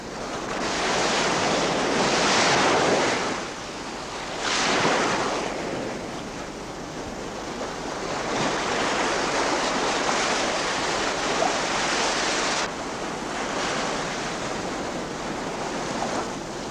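Ocean surf breaking on a Kangaroo Island beach where sea lions gather, a steady loud wash of waves with rising surges and some wind noise, no voices.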